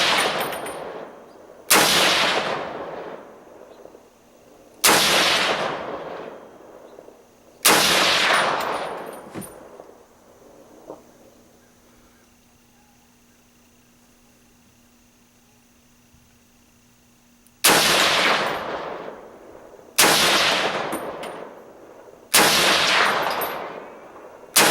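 Seven sharp, loud rifle shots from a DPMS REPR 7.62x51mm rifle ring out at an outdoor range, each followed by a decaying echo. Two quick shots open, then single shots with a long quiet gap before three more.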